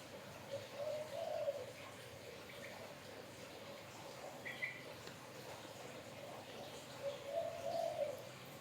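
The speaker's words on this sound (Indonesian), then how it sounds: "baru denger saya burung kuir nih" An Oriental White-eye, Javan subspecies, calls twice with a short, warbling phrase, once near the start and again near the end, over a steady outdoor background hum.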